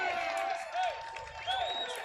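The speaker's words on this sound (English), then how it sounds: "The Fairfield crowd is cheering." Crowd at a Thanksgiving Bowl high school football game between West Haven and Fairfield Prep cheering and whooping for Fairfield, a steady distant roar with rising shouts and a commentator talking over it.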